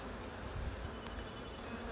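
Honeybees fly around an open hive, a dense, steady buzz of many wings close to the microphone with no talking.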